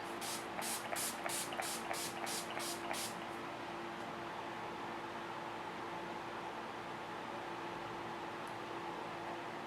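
A rapid series of about eight short hissing bursts of makeup setting spray in quick rhythm, followed by quiet room noise.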